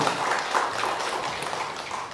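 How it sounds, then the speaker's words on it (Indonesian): Guests at the opening of a wound clinic at a hospital give a round of applause, a fairly faint, steady wash of many hands clapping, slowly tapering off. "Boleh dong berikan semangat tepuk tangannya terlebih dahulu."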